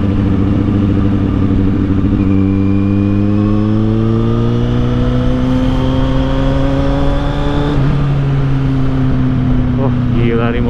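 A Kawasaki Z800 motorcycle with an Akrapovic exhaust revs up loudly and close by, its pitch climbing steadily as it accelerates, briefly easing and then pulling again.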